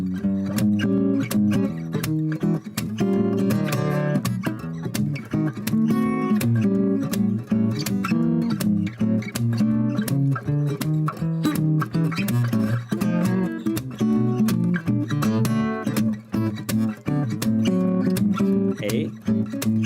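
An acoustic guitar strums a continuous chord rhythm in A through a progression ending in a turnaround, with steady rhythmic strokes, played close and full for about twenty seconds without talk.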